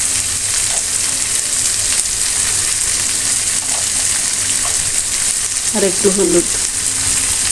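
Snake gourd fries in a pan with a continuous loud hiss and sizzle, a short burst of stirring near the end, and a brief spoken remark over it.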